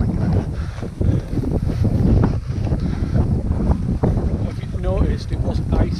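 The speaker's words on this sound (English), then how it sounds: "Now the wind's picked up a bit." Strong wind buffets the microphone on a Scottish mountain during a winter skills course, a constant loud roar with gusty surges, while people talk faintly underneath.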